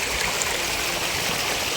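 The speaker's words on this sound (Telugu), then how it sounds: "నీళ్ళు ప్రవహిస్తూనే ఉంటాయి" Steady rushing of a flowing stream, close and continuous, with no voices.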